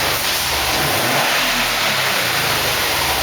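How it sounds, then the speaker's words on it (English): Subaru engine with a factory standard exhaust revs sharply twice, loud and close, with a steady rushing exhaust roar throughout. "we're just going to give it 2 quick revs so you can hear what it sounds like factory standard"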